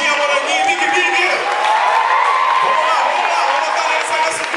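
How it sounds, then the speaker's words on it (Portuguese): A crowd at a capoeira batizado graduation erupts in loud, sustained cheering, whooping and clapping, with children's shouts mixed into the continuous roar. "Salve de palmas aí, gente."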